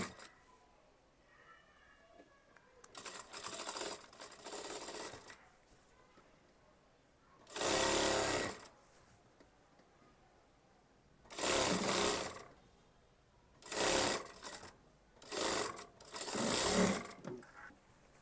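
Sewing machine running in several loud bursts while stitching the hem of an Anarkali kurti, with short quiet gaps between the runs and no talking.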